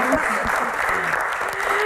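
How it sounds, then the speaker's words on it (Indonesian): A crowd claps during a live Q&A show, a short burst of busy, even applause with a murmur of voices and a few calls mixed in underneath. "Tepuk tangan dong sini."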